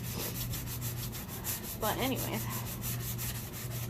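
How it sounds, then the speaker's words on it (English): Hand sanding of wooden drawers outdoors on a deck, a steady low rubbing scrape running throughout, fairly faint, with a brief spoken phrase in the middle. "I'm sitting on the deck sanding drawers."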